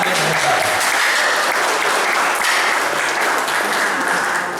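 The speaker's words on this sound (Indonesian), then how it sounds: "Tepuk tangan." An audience at a graduation event breaks into thick, continuous applause, loud and even throughout with no pause.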